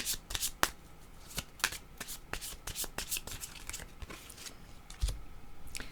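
Tarot cards are shuffled and drawn by hand, giving a rapid run of crisp riffling snaps and flicks close up, irregular in rhythm, with a soft thump near the end.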